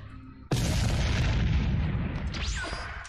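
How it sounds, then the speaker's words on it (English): In a machinima war scene, a heavy boom erupts suddenly and loud, with a rumbling, crackling blast wash that fades slowly over several seconds. "Fireworks."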